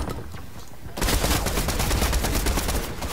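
Video game gunfire from a new shotgun, a quiet stretch then a dense, loud, continuous barrage of rapid shots and impacts, close and sustained.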